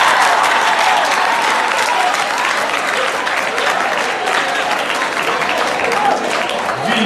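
Dense crowd applause at a festive sports celebration, continuous and loud across the whole stretch with crowd voices mixed into the clapping.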